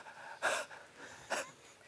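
Two sharp, breathy gasps of out-of-breath panting from a performer on a Japanese comedy panel show, spaced about a second apart with soft breathing between them.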